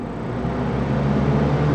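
An electric fan runs normally, giving a loud, close, steady broadband whoosh with a low hum underneath, continuous and unchanging throughout.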